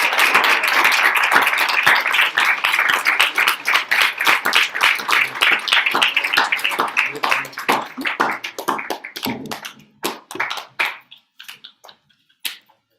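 Audience applause after a devotional lecture class, loud dense clapping that gradually thins into scattered individual claps and a few last isolated slaps before falling silent.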